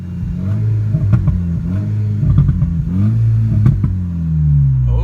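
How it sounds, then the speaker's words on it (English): A VW MK6 GTI with an ECS Tuning exhaust cutout open revs repeatedly nearby, its loud rumbling exhaust note climbing and dropping through several quick blips with no speech. "Exhaust cutout on. Ooh, you can hear how it changes the tone."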